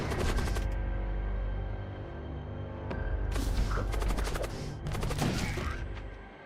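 Enemy gunfire in the space combat game Void War, rapid bursts of shots crackling in several volleys, loud and close, with a brief thud among them and no talking.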